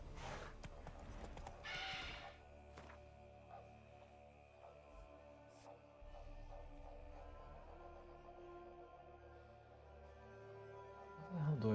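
Roach, the horse in The Witcher 3, runs with a steady beat of hooves set against a soft game backdrop. A brief louder rustle comes early on, and a sharper noise comes at the end.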